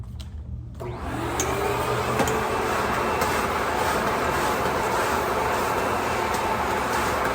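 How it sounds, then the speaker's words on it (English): A vacuum cleaner on a small patch of carpet starts up after a brief quiet moment and then roars steadily and loudly at close range, a constant droning whoosh. "I'm gonna vacuum this little area right here real quick."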